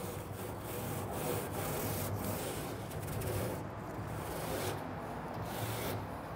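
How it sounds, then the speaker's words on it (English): Stiff bristles of a Weber three-sided grill brush scrub the grates of a Yoder YS640 pellet grill, a close, continuous rasping scrape with steady back-and-forth strokes and no talking. "It's the Weber three-sided grill brush."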